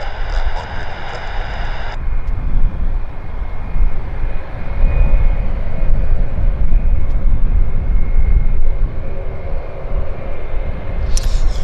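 An American Airlines airliner at Vancouver airport roars steadily with a broad engine rumble, loud and fairly near throughout, with no talk.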